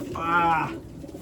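A racing pigeon with a leg ring gives one soft, close, throaty coo lasting about half a second, followed by quiet low room noise.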